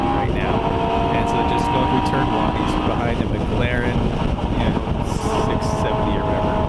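Wind roars steadily and loudly through an open roadster on a race track, a constant blustery rush over engine drone throughout, with a voice talking underneath.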